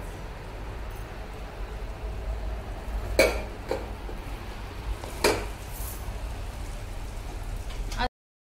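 Steady rain falls outside a home, a soft continuous patter with two brief sharp knocks partway through, heard alone with no talking.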